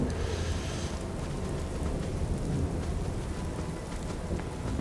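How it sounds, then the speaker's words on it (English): Steady rain with rumbling thunder from a storm in the Fallout video game, a continuous loud wash of rainfall over deep low rumble with no pauses. "The storm's still raging."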